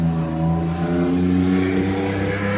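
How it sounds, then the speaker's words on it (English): A car with a loud, throaty exhaust rumbles past close by on a road near the Appalachian Trail, its deep engine drone swelling slightly as it goes. "Let that guy's loud exhaust go on by."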